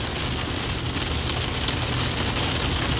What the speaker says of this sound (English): We got upwards of dime sized hail here now